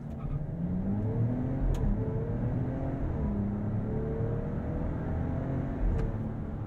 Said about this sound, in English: This is going to be a truly real world 0-60 test.